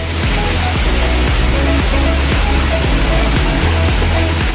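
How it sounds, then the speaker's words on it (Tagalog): Hulugan Falls in Luisiana, Laguna roars loudly and steadily with dense rushing water noise, close and continuous throughout with no break. "Ayan siya. Hulugan Falls."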